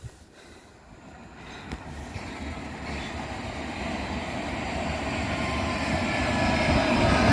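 A fast Metropolitan line train at Harrow approaches with a rumble that builds steadily louder over several seconds, a brief click near the start, no voices over the rising rail roar.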